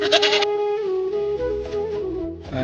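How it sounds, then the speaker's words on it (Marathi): Newly bought goats on a small Marathi goat farm bleat loudly and close by, one long wavering cry that fills the whole moment. "हे तीन नवीन शेळ्या आहेत"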